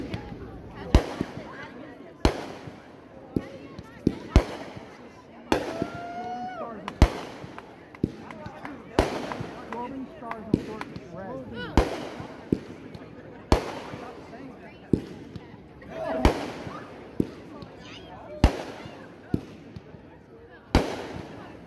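Red fireworks from the Scalding Stars Assortment fire in a demo, sharp launch pops recurring every second or two over crackling bursts, with people talking throughout.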